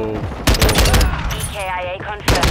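Single-fire gun shots in Call of Duty: Modern Warfare II, loud close cracks with a burst at the start and another near the end, mixed with game sounds and a talking voice.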